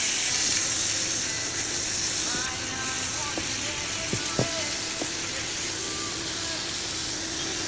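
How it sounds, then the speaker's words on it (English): Shrimp toasting in olive oil in a pot for homemade fried rice, a steady broadband sizzle and hiss with a few brief clinks partway through, no talking. "I'm going to add some oil, some olive oil, and I'll go in with my shrimps and toast it"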